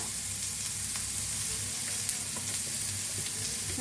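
Turmeric stirred in a little oil in a pan for turmeric chutney: a soft, steady sizzle with faint scattered scraping ticks from the spoon, no talking.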